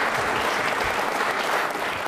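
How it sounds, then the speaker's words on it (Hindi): An audience at an Independence Day quiz show with NCC cadets applauds steadily and fairly loudly, a dense wash of clapping with no pauses. "तालियां बजाइए"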